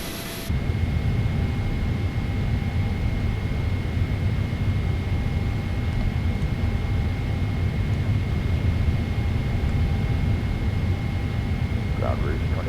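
A Boeing 777-300ER takes off from Minneapolis, heard from inside as a loud, steady roar of jet engines and rushing air with a constant tonal whine throughout.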